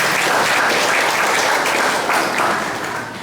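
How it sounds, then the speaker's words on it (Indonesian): Congregation at a Christmas morning church service applauding a choir, a loud dense roll of clapping from many hands that fades slightly toward the end. "Sekali lagi kita berikan aplaus buat paduan suara resonan"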